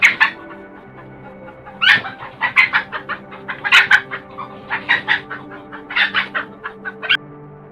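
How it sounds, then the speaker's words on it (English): Chickens cluck and squawk loudly in a busy, agitated string of calls with a crowing note among them, close by and with no talking over them. "The sound of chickens crowing echoed loudly after only a few minutes."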